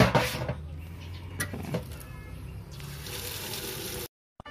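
Water splashes and trickles onto the soil of a potted plant after fertilizer is applied, a soft steady outdoor pour with faint background sounds, stopping abruptly near the end.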